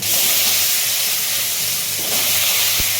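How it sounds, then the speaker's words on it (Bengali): Cumin seeds sizzle in hot oil in a wok, a loud, dense, steady hiss filling the whole stretch, with a brief low thump near the end. "সামান্য পরিমাণ জিরে ফোড়ন দিল এর মধ্যে।"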